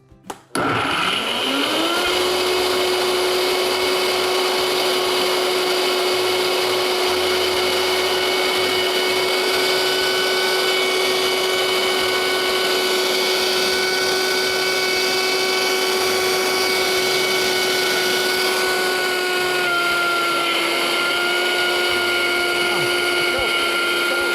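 A Vitamix E320 blender runs steadily at high speed, loud and close, with a whining motor tone holding from a sudden start to the end.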